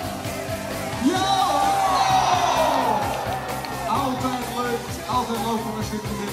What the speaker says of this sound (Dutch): Jongens, even een ongelooflijk applaus.